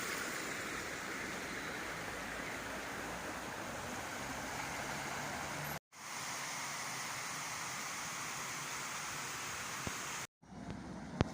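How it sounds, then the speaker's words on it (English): A medium-sized river in Devon gives a steady, full rushing wash of flowing water, unbroken and fairly close, cut by two brief dropouts, with no voices. "This is a medium-sized river, 2 rivers for the price of 1."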